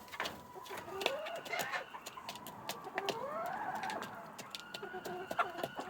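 Hens cluck and coo softly at close range in a quiet evening setting, with short, uneven calls scattered through the clip over a low background.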